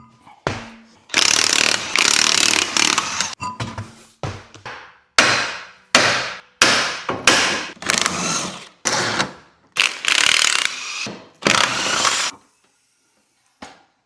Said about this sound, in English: Down comes the subframe.